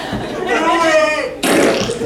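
A voice imitates a wet fart with a drawn-out buzzing, sputtering mouth noise followed by a short breathy burst, loud and close.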